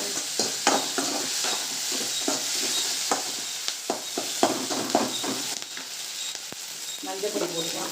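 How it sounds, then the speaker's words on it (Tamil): Ginger garlic paste sizzles and fries in a pan while a spoon scrapes and stirs it, with steady crackling and short, sharp stirring knocks throughout, made while cooking a nethili (anchovy) sambar dish. "கொஞ்சோண்டு இஞ்சி பூண்டு பேஸ்ட் போட்டுக்கலாம்."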